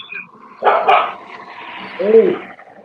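Small dog yelping and whining to be lifted up, two short bursts of vocalizing about a second apart, close and fairly loud in a quiet room.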